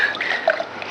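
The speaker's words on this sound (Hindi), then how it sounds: "लो, मैं पानी डाल रहा हूँ।" Water is poured over a person's head during a Hindi stage drama, making a soft, continuous splashing and trickling at close range that lasts under a second, with no talking.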